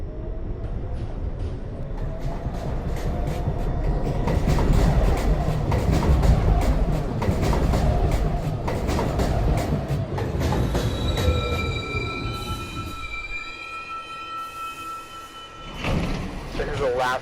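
A New York City Subway train rumbles and rattles at Rector Street station, close and loud, with wheel squeal and a rising-then-falling whine as it slows; tonal chimes and a brief announcement voice follow near the end.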